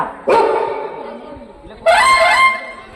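A dog in a village gives two loud, close barks about one and a half seconds apart, with quiet background between them.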